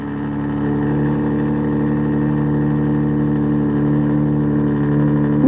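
A motor vehicle's engine holds a steady mid-pitched drone that builds slightly over several seconds, loud and close, with no one speaking.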